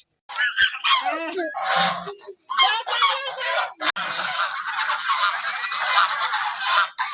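A flock of domestic ducks in a rural village yard, loud, close, nasal quacking calls overlapping in quick bursts, with a brief pause and then a sustained chorus of many birds calling at once.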